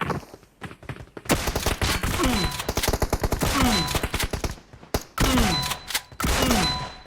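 Gunfire from a gold DBS shotgun in PUBG Mobile, with several loud, sharp blasts in quick bursts, short pauses between volleys and ringing in-game effects mixed through.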